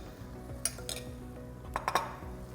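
A spoon stirs chickpeas, mustard and spinach salmon stuffing in a bowl, soft scraping with a few light clinks against the side, quiet and close.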